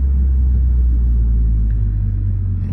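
A VW GTI fitted with a JB4 tune and a new downpipe drives in sport mode, its deep exhaust rumble droning loud and close from inside the car, steady with a slight swell near the end.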